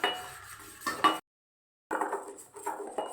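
Caramel stirred in a metal pan, with close scraping and clinking of a utensil against the metal and a brief silent gap partway through.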